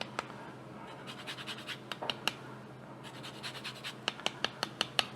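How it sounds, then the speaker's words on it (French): Mandarin zest is grated over a dish with a rapid series of soft, dry scratching strokes, close and quiet, pausing briefly midway before resuming. "on va râper quelques zestes de mandarine par-dessus"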